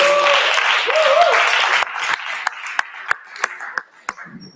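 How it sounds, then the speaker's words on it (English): An audience at a congress general assembly claps briefly under a speaker's voice, then the applause thins out into scattered individual claps that fade away. "One applause for Yahor, please."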